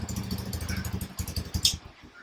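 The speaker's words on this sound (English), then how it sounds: "the engine is completely off tune" A Hero Impulse 223cc motorcycle engine that is badly out of tune runs close by with an uneven, pulsing throb, heard alone without talk.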